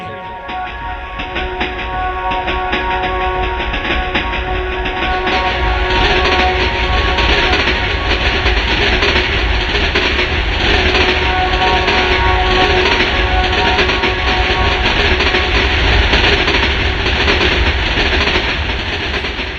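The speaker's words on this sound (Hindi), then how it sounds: "इतने में हौरन देते हुए वहां ट्रेन आ गई।" A train pulls in with a loud, continuous rumble of wheels and carriages, a sustained tonal horn note sounding over the noise through the first few seconds before the roar carries on steadily.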